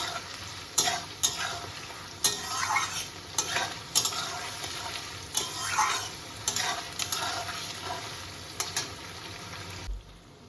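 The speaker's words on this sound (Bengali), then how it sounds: "আমি ভালো করে গ্যাসটাকে বাড়িয়ে এটাকে লাল লাল করে ভেজে নেবো" Sliced onion and chilli fry hard in oil over a high gas flame for mutton curry, with a constant loud sizzle and repeated sharp scrapes of a spatula stirring against the pan.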